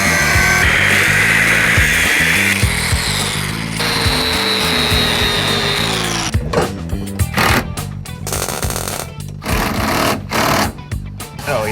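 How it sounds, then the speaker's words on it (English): Power tool cutting a steel floor bracket on a Firebird car, a loud, continuous whining and buzzing cut that shifts pitch partway through, then breaks into choppy, stuttering bursts near the end. "We're gonna have to cut and weld this floor bracket"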